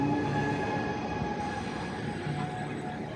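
A passenger train running from Naples to Rome, heard from inside with a steady, fairly quiet rumble of wheels and car noise and faint tonal whines, with no talking.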